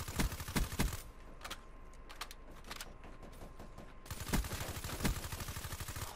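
Rapid bursts of gunfire in Call of Duty: Black Ops 3 Demolition mode, loud and repeated, with a sustained background tone and brief pauses between volleys.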